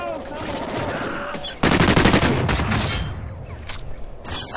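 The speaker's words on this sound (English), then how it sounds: "He's shooting through the snow!" Assault rifle fire crackles in a snowy video game match, a sudden loud burst of rapid automatic shots after a quieter stretch, then tapering off, with a voice talking over part of it.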